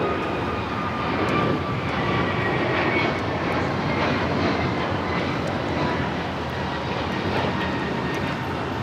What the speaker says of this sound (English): 2440 taking off to Miami, Florida on the A321neo